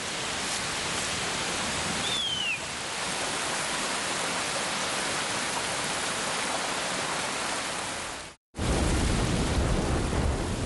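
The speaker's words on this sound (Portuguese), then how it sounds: "As chuvas transformam a floresta amazônica e muitos de seus rios." Heavy rain pours steadily over the Amazon rainforest as a dense, loud, continuous hiss, with a bird call briefly cutting through near the start and a momentary dropout before the downpour resumes.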